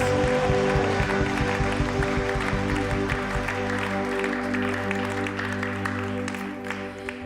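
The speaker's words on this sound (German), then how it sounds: "Geben wir uns Gott doch einen großen Applaus" A church congregation claps loudly at a prayer evening, dense applause over sustained organ or keyboard chords that gradually thin out and fade.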